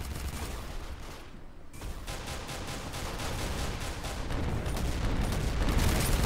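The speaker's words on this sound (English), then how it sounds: "I shot the gun!" Rapid bursts of gunfire in the Roblox game Arsenal, a dense continuous barrage that stays loud and building across the whole stretch with a brief dip early on.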